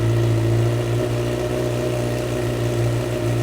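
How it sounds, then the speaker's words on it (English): A Honda CBR1000RR motorcycle idles on its stock exhaust, a loud, steady, close-up rumble with a constant low throb for the whole stretch, with no voices. "let's just hear what the stock exhaust sounds like."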